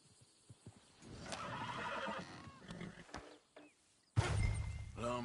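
Horse in the video game Red Dead Redemption 2 whinnies loudly and close by, with a long shaky neigh, hoof clops and snorts, then a second burst near the end, all without talk.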